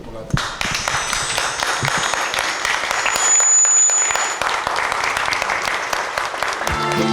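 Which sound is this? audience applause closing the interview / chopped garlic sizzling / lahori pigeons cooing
audience applause closing the interview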